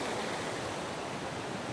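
Beside riverside lodging in Laos, a waterfall pours in a continuous, even rush of broadband water noise, steady and fairly close with no voices over it.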